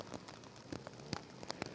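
Rain falls at an ATV motocross race, a faint, steady patter of drops with a few scattered louder taps and nothing else standing out.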